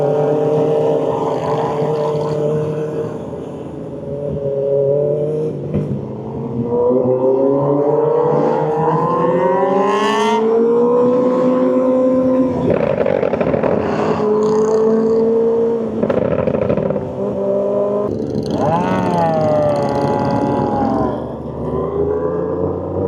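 Motorbikes out on a ride with a group of friends: a loud, close engine revs and shifts through gears, its droning pitch climbing and falling repeatedly with steady wind rush underneath.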